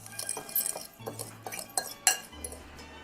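Burger mixture with granulated garlic and salt being mixed in a bowl, giving soft repeated clinks and scrapes of utensil against dish at a steady working rhythm, fairly quiet and close, with no talking.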